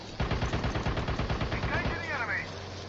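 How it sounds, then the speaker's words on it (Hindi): Rapid automatic gunfire in the Call of Duty Mobile video game, a fast burst of about a dozen shots close by, followed by a rising whoosh effect, with voices talking underneath. "ये गोली चल रहा है उस तरफ"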